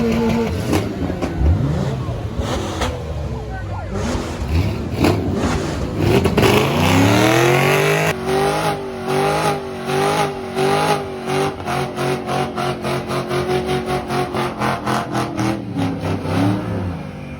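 Car engine at a car meet revving hard, rising and falling in pitch, then a rapid run of short throttle blips, loud and close with crowd noise around it.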